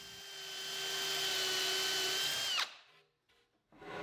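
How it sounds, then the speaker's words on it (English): A power drill whines at high speed for a couple of seconds drilling a hole in a wooden cabinet, bogs down briefly as the bit cuts through, then stops; a short rustle follows. "I'll measure and mark to drill and countersink holes in the back and sides of the cabinet."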